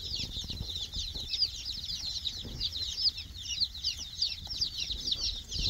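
Young chicks in a newly arrived brood of 120 give a dense, continuous chorus of high, soft peeping and chirping, with low clucks and scuffling underneath, fairly quiet and heard alone.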